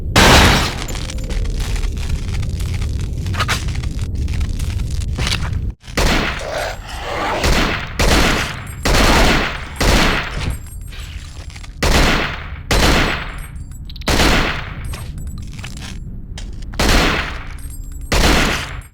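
Weapon fire from the survival horror game Cold Fear: a dense continuous burst of gunfire for about six seconds, then a series of separate loud, punchy shots at irregular intervals, each with a short, sharp crack.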